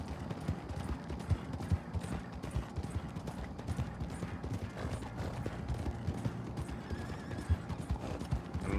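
Rapid hoofbeats of a horse galloping in Red Dead Online ring out loud and close in a steady, driving rhythm across the whole stretch, with a whinny breaking in along the way.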